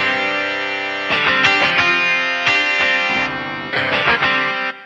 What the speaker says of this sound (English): Overdrive. Distortion guitar.